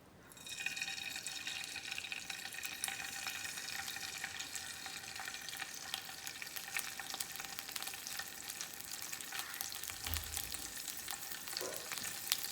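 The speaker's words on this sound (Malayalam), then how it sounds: "തേങ്ങ എണ്ണ വയ്ക്കാം എന്നിട്ട് നമ്മൾ ഈ കഷ്ണങ്ങളാക്കിയ ഈ ഒരു കൂന്തലുണ്ടല്ലോ അത് നമുക്ക് ഇതിലോട്ട് ഇട്ട് കൊടുക്കാം" Squid pieces crackle and sizzle in hot coconut oil, a dense, continuous frying hiss that stays steady throughout, with a brief low thump near the end.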